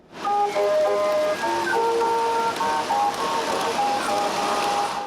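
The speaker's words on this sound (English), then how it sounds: "the unmistakable sound of a calliope" Calliope music from a model circus train, a bright steady run of whistle-pipe notes playing a tune over a constant noisy hiss, fairly loud and continuous throughout.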